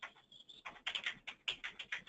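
Quick, light clicks of typing on a computer keyboard while filling in a comment box on a web form, a steady run of close, soft keystrokes with no talking.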